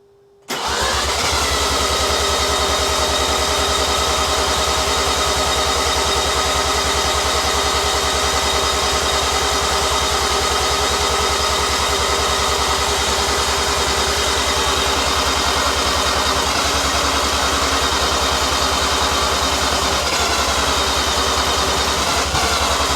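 A freshly built Mazda 13B bridgeport rotary engine cranks and fires on its first start, then holds a loud, steady, rough idle close by for over twenty seconds with no talking.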